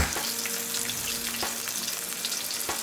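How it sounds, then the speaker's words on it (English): Sausages fry in a pan, a steady crackling sizzle that fills the clip at close range, with a few sharper pops and clicks and no voices. "Today is going to be fried sausages and some pilaf."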